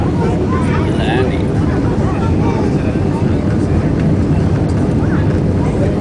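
Spirit Airlines flight NK713 descends toward Houston, Texas, with a steady, loud cabin roar of engine and airflow that holds unchanged throughout, plus faint voices beneath it.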